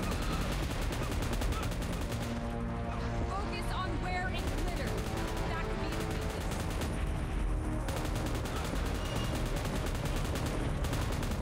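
Sustained automatic fire from an M249 light machine gun in PUBG Mobile, dense rapid bursts rattling almost without pause throughout, loud and close, with a player talking over the shooting.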